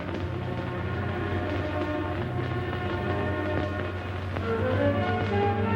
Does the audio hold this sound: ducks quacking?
no